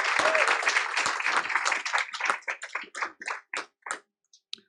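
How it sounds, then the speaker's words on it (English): Audience at a school board meeting giving employees of the year a round of applause, loud, dense clapping that thins into scattered claps and dies away. "Let's give our Liberty Employees of the Year a big round of applause"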